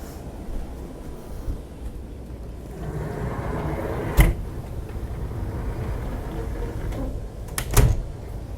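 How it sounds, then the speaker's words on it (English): A door on a Bluegame BG72 luxury yacht slides shut smoothly, with a soft rolling rumble followed by a sharp thud, then a second close, quieter latch click against a faint background hum. "That was pretty easy, very smooth closing that door."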